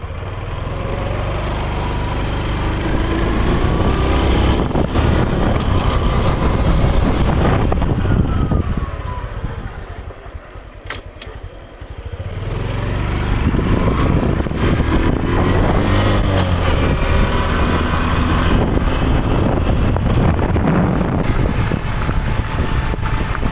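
A 2021 Honda Wave110i motorcycle engine on a test ride, loud and close, with a continuous buzzing drone that rises and falls through gear changes and throttle, easing off briefly midway before pulling again.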